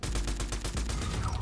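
Rapid automatic gunfire in the Fortnite Chapter 5 video game, a dense continuous burst of shots lasting just over a second, loud and steady.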